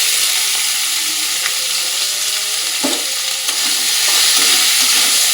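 Boiled bottle gourd peel and potatoes added to a hot frying pan with oil, giving a loud, steady sizzle and hiss with a few soft scrapes of stirring up close.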